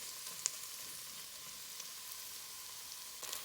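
Onion and potatoes sautéing in a pot for lentil soup give off a faint, steady sizzle that holds evenly throughout, with a light tap near the start and a slight swell at the end.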